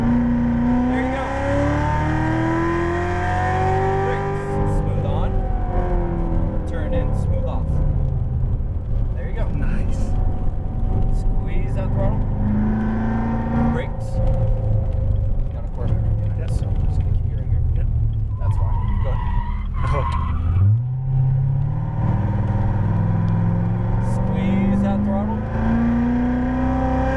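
A Chevrolet Corvette Z06 Stingray engine revs and accelerates on a track, its loud, rumbling note rising and falling through repeated throttle sweeps while a voice talks over it throughout.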